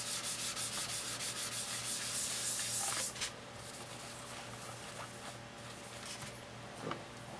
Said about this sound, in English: this just happens to be on a sanding sponge that I have